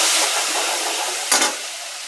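Spice masala of red chili powder, turmeric and garam masala with bay leaf sautéing in a pan, a steady close sizzle with one brief louder stir scrape.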